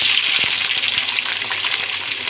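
Whole onions fry lightly in a pan, a close, steady hiss and sizzle with soft crackling throughout.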